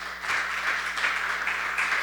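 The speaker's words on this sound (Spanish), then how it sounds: "Denle un fuerte aplauso al Señor." Church congregation clapping together in praise during a Spanish-language service, a moderately loud, continuous rippling of many hands with slight rhythmic pulses and no voices over it.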